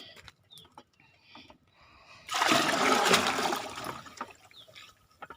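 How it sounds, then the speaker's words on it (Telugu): Rice-washing water and pulp pour into a container for a homemade plant liquid, a sudden gushing splash lasting about two seconds, then quieter trickles and drips. "ఇవి కూడా దీంట్లో పోసేస్తాను."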